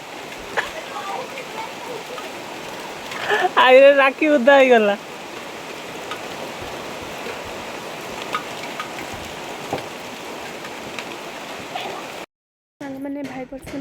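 Steady rain hisses evenly throughout, broken by a burst of loud close speech midway and a brief cutout near the end, where more talk follows.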